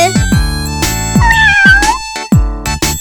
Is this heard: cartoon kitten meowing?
yes